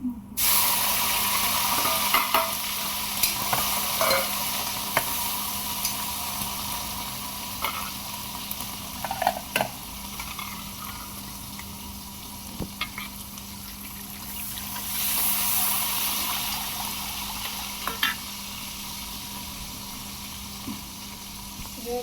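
Garlic, onion and tomato tempering sizzles steadily in hot oil for moung dal curry, a dense hiss running throughout with scattered utensil clicks and a brief swell in intensity midway.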